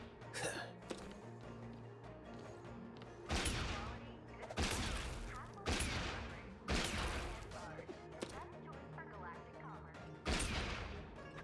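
Gunfire in Honkai: Star Rail, fired by the character Boothill, comes as several sharp, crashing bursts spaced a second or two apart, with quieter game sounds and a voice in the gaps.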